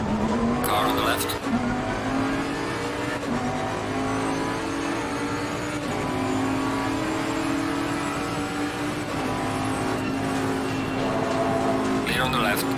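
Several race cars in a racing video game roar past at close range, engines droning and shifting steadily with faint tire squeal, while a voice talks over the continuous engine noise.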